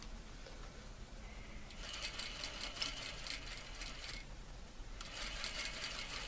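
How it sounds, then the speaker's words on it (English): A sewing machine stitches along the edge of fabric, running in two bursts of rapid mechanical whirring and clatter separated by a short pause. The sound is close and fairly quiet. "And stitch right along the edge of the fabric."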